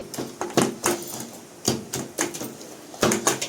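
Gongura leaves with rock salt are mashed into a paste with a wooden dal masher in a bowl, making close, repeated knocking thuds in uneven bursts. There are no voices.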